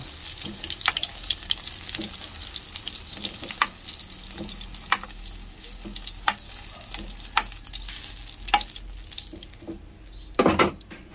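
Japanese sausage sizzles and fries in a pan with a steady close crackle, punctuated by regular scraping and stirring strokes, then a brief louder clatter near the end.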